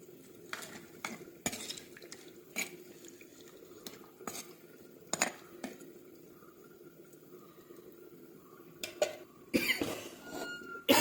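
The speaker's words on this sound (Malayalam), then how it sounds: "കുറച്ച് വെള്ളം കൂടെ ഒഴിച്ചിട്ട് നന്നായിട്ടൊന്ന് മിക്സ് ചെയ്യാം" Fish head curry ingredients with curry leaves, ginger, garlic, tomato and water being stirred in a pot, with a spoon clanking and scraping against the metal in irregular bursts and sloshing liquid between strikes, no voices.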